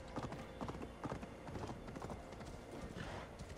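A horse gallops in Assassin's Creed Valhalla, its hooves thudding in a quick, regular rhythm close by. A brief whinny and some faint speech sit under it.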